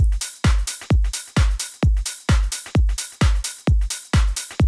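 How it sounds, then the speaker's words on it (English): A punchy synth with velocity-controlled filter cutoff, drive and resonance hits in short, even, rhythmic stabs, each bright crunchy attack snapping shut, loud and dry with no voices. "So you get this really nice crunchy sound when you push it with the drive and add a little bit of resonance"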